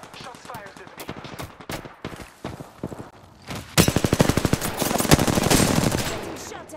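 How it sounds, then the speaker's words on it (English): Gunfire in Apex Legends: scattered shots build into a loud, rapid automatic burst of evenly spaced reports lasting several seconds, with speech-like voice sounds mixed underneath. "Shots fired at me"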